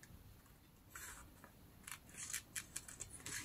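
Scissors fussy-cut through magazine paper in short, faint snips, scattered at first and then a quick crisp run of cuts near the end, with no talk.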